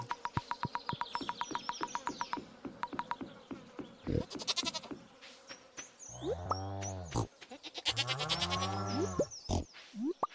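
Farm animals in a video game, goats and pigs, give off rapid clicking bleats and buzzy calls, then two longer wavering cries, close and clear with no speech.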